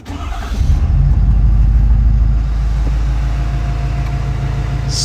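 A 2017-or-later Ford 6.7 diesel pickup, just after a fuel filter change, cranks briefly and fires, then settles into a loud, close, steady rumbling idle.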